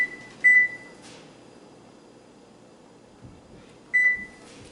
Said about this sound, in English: I'm going to set the timer for about 35 minutes.